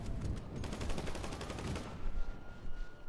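Rapid bursts of gunfire from a GTA Online match crackle steadily for a few seconds, dense and fairly loud, with no talking over them.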